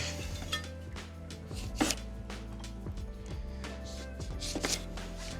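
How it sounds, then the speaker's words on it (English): A razor-sharp knife slices through a lime on a cutting board, with a couple of crisp, distinct cutting strokes spaced a few seconds apart over a low, steady kitchen background. "lime being cut, the razor sharp knife"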